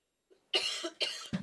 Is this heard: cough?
yes